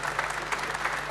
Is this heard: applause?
yes